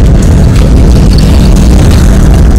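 Motorbikes ride along a Himalayan road in Upper Mustang, Nepal, giving a heavy, close, continuous engine rumble with roaring wind-like noise throughout.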